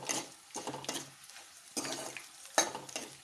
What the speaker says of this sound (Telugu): ఫ్రై చేసుకుంటున్నాను.